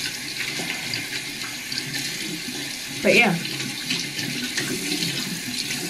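Tap water runs steadily from a faucet into a sink while makeup is washed off, a soft continuous wash with a brief louder splash midway and a few words spoken over it.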